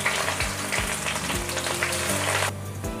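Two onions frying in about five spoonfuls of hot oil for a dhaba-style paneer curry, a loud steady sizzle with stirring scrapes throughout, dropping to a quieter hiss near the end.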